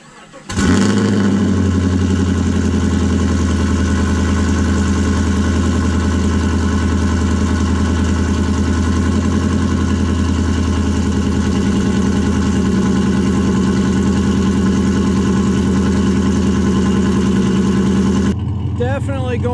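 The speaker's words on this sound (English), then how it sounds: "I am going to do the last cold startup of the 2014 Chevy Silverado" A 2014 Chevy Silverado truck on its stock cam cranks over and settles into a loud, steady cold-start idle. The engine drone runs evenly for about eighteen seconds before cutting off near the end.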